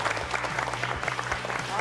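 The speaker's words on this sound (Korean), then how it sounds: "정말 선전을 해주셔서 박수를 보내고 싶습니다." Brief, moderately faint clapping for the red team after a golf competition round, heard beneath people talking.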